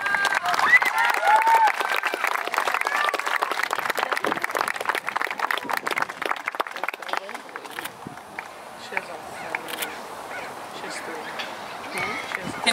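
An audience claps steadily at a middle school Outstanding Scholar award ceremony. The dense, continuous applause fills the room for over twelve seconds and thins slightly toward the end.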